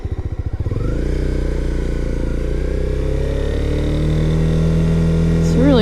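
Motorcycle engine running in first gear during a ride, a steady loud mechanical drone with harmonic hum throughout, a rider's voice talking over it.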